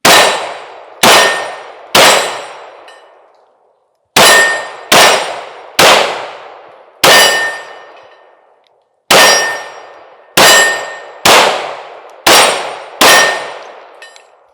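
Hellcat Pro Comp pistol fired at steel targets: about twelve sharp shots, each followed by a bright ringing clang that decays over a second or so. They come in uneven bursts of three, four and five, loud and close, with no talk.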